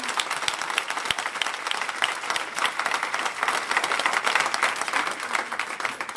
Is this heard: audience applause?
yes